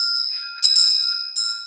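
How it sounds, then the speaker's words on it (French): Large meditation bell ringing with a bright, sustained metallic tone, struck again twice so fresh strikes layer over the lingering resonance, close and clear with no speech. "Je vais écouter le début de la séance avec la cloche que vous connaissez."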